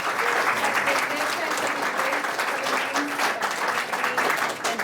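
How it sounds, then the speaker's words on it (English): Steady, full applause fills a room at a Deadpool Blu-ray press conference, continuous clapping from the assembled audience with some voices mixed into the sound. "everyone give them a round of applause"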